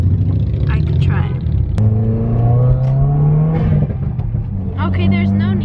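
A car engine revs up and down, loud and nearby, with rising whining pitch sweeps, as people talk over it.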